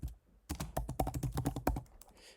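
Rapid typing on a computer keyboard as an API key name is entered, a dense run of close, crisp key clicks with brief pauses at the start and end, no voices.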